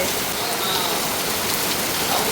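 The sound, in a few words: rain falling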